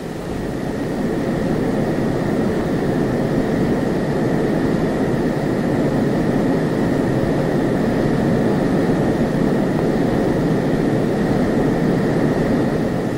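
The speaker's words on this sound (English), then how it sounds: "The F-102A is a supersonic all-weather interceptor capable of operating out" An F-102A delta-wing supersonic interceptor jet makes a loud, continuous engine roar with a steady high whine, holding unchanged throughout with no voices.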